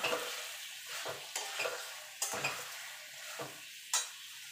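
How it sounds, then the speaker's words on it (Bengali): Papaya and potato pieces frying with spices in a pan as a spoon stirs them. A steady sizzle runs throughout, broken by several distinct scrapes and clinks of the spoon against the pan, close up and with no voices. "এবার দিয়ে দেবো পেঁপে আলুটা, দিয়ে ভালো করে কষিয়ে নেব মশলার সঙ্গে"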